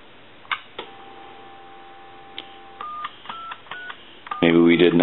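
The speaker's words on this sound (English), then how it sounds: "And we're going to dial our numbers if you watch." An AT&T Trimline 210 telephone sounds a series of short dialing tones, spaced irregularly over a quiet line, followed by a louder, sustained ringback-like tone at the end.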